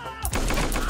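Gunfire from an enemy above in a platformer video game, a short burst of rapid shots.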